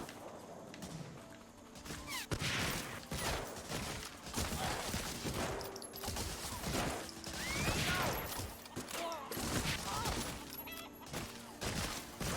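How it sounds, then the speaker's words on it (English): Enemy gunfire in the World War II shooter Medal of Honor Frontline, dense bursts of rapid shots with mechanical clatter, loud and continuous over a busy battle din. "there's still a dude shooting at me though"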